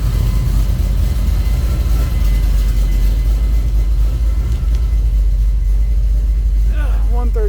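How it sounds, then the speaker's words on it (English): A car engine fitted with a Holley Sniper throttle body, just fixed for a sticking throttle with a secondary return spring, runs with a loud, close, low rumble throughout. A voice briefly speaks near the end. "so we'll give her a couple of revs"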